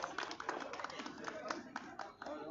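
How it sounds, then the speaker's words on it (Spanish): Applause for Leonardo Arenas at an outdoor municipal agreement-signing ceremony in Chile, with a crowd clapping in a quick, irregular patter, fairly faint and distant, continuing throughout with voices murmuring faintly under it. "Repitamos entonces el aplauso para don Leonardo Arenas."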